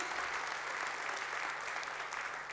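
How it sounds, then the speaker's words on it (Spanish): A church congregation at a Spanish-language worship seminar breaks into applause, a continuous wash of many hands clapping at once, even and sustained, heard from within the room at moderate distance. "dele el aplauso al Señor"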